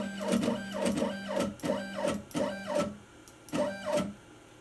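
An X-Carve CNC machine fitted with a CNC4NEWBIE upgrade drives its axis upward: about five loud stepper-motor whines rise and fall in quick succession, with brief pauses between them and no talking.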